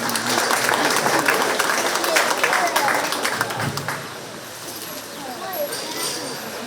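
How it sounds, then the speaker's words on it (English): Spectators at a 4-H swine show at a county fair give exhibitors a round of applause, loud and sustained at first, then thinning out and fading as voices carry on underneath. "Let's go ahead and give those exhibitors a big round of applause"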